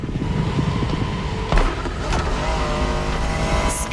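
A Honda NSX sports car from the 1990s drives in The Crew Motorfest, its engine droning loud and steady at close range with shifting tonal whine and a brief bump midway.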